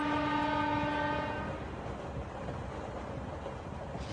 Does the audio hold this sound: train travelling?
yes